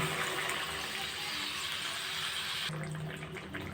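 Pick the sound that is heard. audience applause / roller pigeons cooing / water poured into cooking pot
water poured into cooking pot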